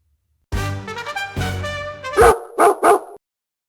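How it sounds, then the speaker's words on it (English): A dog barks in a short burst of several sharp, close, loud barks and yips, with a brief pause before the final quick pair. "It's a dog."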